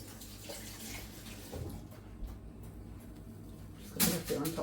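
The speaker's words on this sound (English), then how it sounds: "Alright, give it a rinse." Kitchen tap water runs steadily over a freshly trimmed onion being rinsed, a constant close splashing hiss that swells briefly louder near the end.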